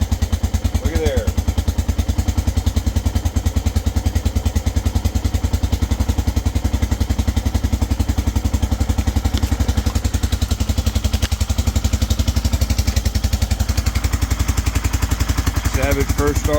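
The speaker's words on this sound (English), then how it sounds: "Savage first start on the new piston." A Suzuki Savage motorcycle's single-cylinder engine fires up for the first time on a new piston, then runs with a loud, steady, rapid thumping idle right up close, a voice briefly audible near the end.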